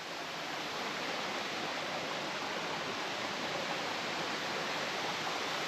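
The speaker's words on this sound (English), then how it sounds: "And I think, if I'm correct, I hear the waterfall." Waterfall heard through the trees outdoors, a constant, faint rushing hiss of falling water in the distance, steady and unbroken with no voices.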